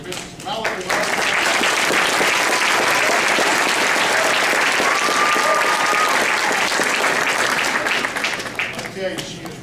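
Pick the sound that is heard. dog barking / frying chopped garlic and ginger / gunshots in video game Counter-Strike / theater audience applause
theater audience applause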